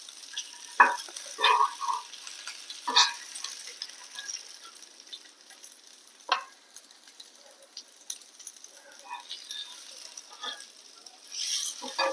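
Sizzling frying sounds of masala-coated mackerel in hot oil, with scattered sharp pops and crackles, moderately close, with no one speaking.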